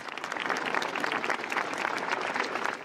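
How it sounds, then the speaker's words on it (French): Thousands of people dressed in white applaud at an outdoor memorial march for a young girl, a dense, steady wash of clapping that stays loud and continuous throughout. "sous les applaudissements de plusieurs milliers de personnes parées de blanc"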